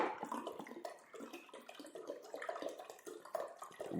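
Water pours steadily into a huge pot for making kvass, a Russian bread drink, a continuous splashing gush with slight fluctuations, close and fairly quiet, with no voices.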